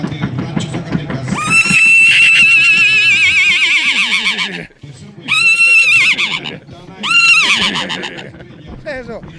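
A man imitates a horse's neigh with his voice, giving a loud, close, shrill whinny that rises and wavers, then breaks into two shorter whinny bursts.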